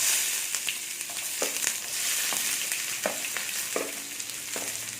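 Steady crackling sizzle of sliced shallots frying in hot oil for a tempering, with a few louder spatters and stirring knocks throughout.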